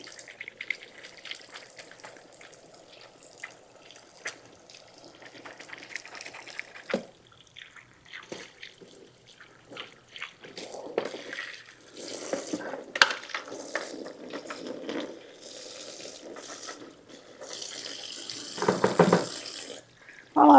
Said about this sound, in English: let me get my hands washed here